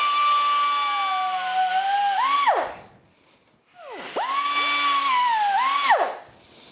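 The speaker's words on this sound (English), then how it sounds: "Now, my preferred method, a cutoff wheel." A cutoff wheel bites into metal CV boot clamps on a Polaris Ranger 900 XP, two long, loud, high whining cuts with the pitch sagging under load, separated by a brief pause as the tool spins down.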